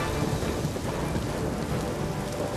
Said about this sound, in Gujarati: સુરતના ગ્રામ્યમાં પણ વીજળીના કડાકા ભડાકા સાથે ધોધમાર વરસાદ વરસ્યો